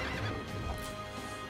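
A spectral horse in the video game Child of Light lets out a loud, close whinny lasting over a second, with faint hoof clatter underneath and no talking.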